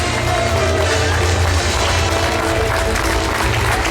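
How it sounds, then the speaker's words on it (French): An audience at a Hastings 1066–2016 commemoration applauds loudly for a woman being honored. The clapping is a steady, dense wash of sound that fills the whole moment. "j'aimerais qu'on applaudisse très très fort Madame Muriel, la dame au livre"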